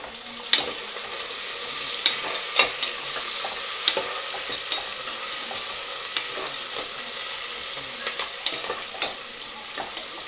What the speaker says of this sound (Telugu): ఇవి కొంచెం వేగిన తర్వాత మిర్చి యాడ్ చేస్తున్నాను ఒక నాలుగైదు మిరపకాయలు వేస్తున్నాను అలాగే ఒక పెద్ద ఆనియన్